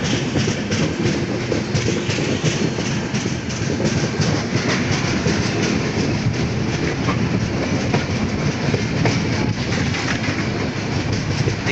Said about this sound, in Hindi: देखिए वही ट्रेन मुड़ रही है।